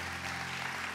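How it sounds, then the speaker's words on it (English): A church congregation applauds in a dense, even wash of many hands clapping at once, steady and sustained with a low hum beneath, and no voices standing out. "round of applause, and can we give it up to our worship team as well?"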